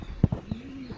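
Pigeons suffering from bloating coo softly up close, with a few low throaty pulses and one short rising-and-falling coo over a background hum.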